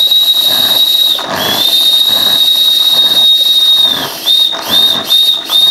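Toy steam tractor whistle blowing a sustained high, shrill tone, loud and close over hissing steam, dipping briefly and resuming in short bursts near the end.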